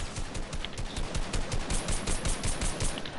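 Rapid automatic gunfire from the video game Fortnite, a dense steady stream of shots close and loud, continuing without pause and with no talking over it.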